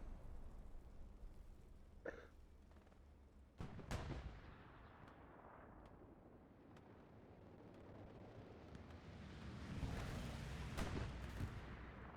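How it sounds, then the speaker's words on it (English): An artillery barrage in a World War II video game match, with distant booms and sharp impacts scattered over a rumbling battlefield bed that swells louder toward the end. "Artillery coming down the north from CF, if I had to guess."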